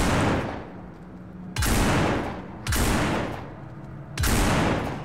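Gunfire rings out while zombies are shot in No More Room In Hell: four loud, separate shots with long decaying echoes, spaced about a second apart, and no talking.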